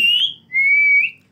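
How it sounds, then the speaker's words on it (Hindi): A pet parrot gives two loud, clear whistles close by, the first short and rising, the second longer and steady, with a faint low hum underneath. "बोलोगे कि खाली सीटी मारोगे?"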